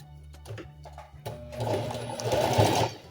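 A domestic sewing machine runs a zigzag stitch on cotton underwear, with a few short starts before it settles into a steady, close whirring run.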